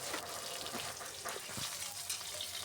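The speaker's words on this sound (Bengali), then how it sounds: "তারপর এখানে দিয়ে দেবো আদা কুচি দিয়ে একটু নেড়ে" Chopped ginger and tomato fry in a pan, giving a steady, close, hissing sizzle with a faint wet crackle throughout and no voices.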